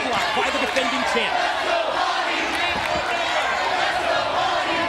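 A wrestling arena crowd cheers during a championship match, with loud, continuous roaring and scattered shouts filling the space, and an announcer talking over the noise.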